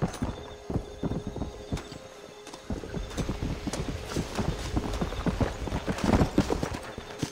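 Horse hooves clip-clop steadily in Red Dead Redemption, a quick rhythmic run of close hoofbeats that grows busier toward the end, with a faint whinny in the mix.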